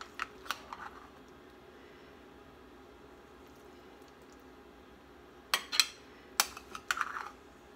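A utensil cuts into a baked hamburger casserole made with cream of mushroom soup: quiet at first, then a cluster of sharp clicks and scrapes against the dish near the end.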